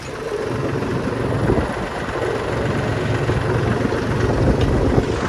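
A tractor engine runs steadily, a constant low rumbling chug close by with no voices.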